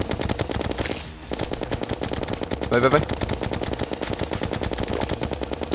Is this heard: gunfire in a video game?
yes